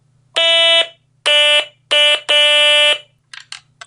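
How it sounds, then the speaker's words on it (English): A real Stylophone plays the same buzzy, reedy electronic note in four sustained presses of varying length, loud and close, followed by a few brief clipped blips. "Same note on the Stylophone."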